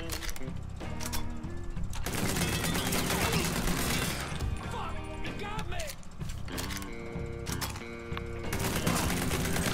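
Rapid gunfire from the player's guns in Mafia 3, bursts of shots packed densely across the whole stretch with crashes mixed in, loud and continuous, with game voices and music underneath.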